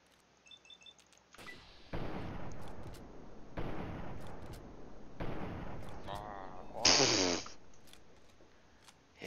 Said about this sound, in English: His head just exploded.